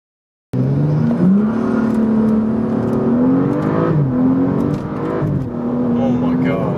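BMW F32 435i coupe accelerating hard with its rear tires spinning in a burnout, a loud continuous engine drone rising and falling in pitch, with voices talking over it throughout.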